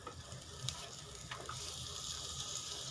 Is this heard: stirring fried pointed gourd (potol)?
yes